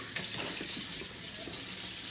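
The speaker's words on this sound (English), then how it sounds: "So now we're gonna wash it with cold water." Cold tap water runs steadily into a sink as dragon fruit seeds are washed, giving a soft, continuous hiss and splash at low level with no voices.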